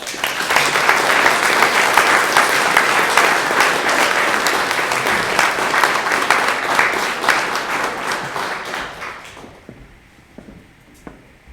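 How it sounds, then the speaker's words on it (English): A lecture audience applauds Dame Angela Eagle at a memorial lecture, a dense, sustained wash of many hands clapping that holds steady for about nine seconds before thinning out to a few scattered claps. "please, another big round of applause for Angela"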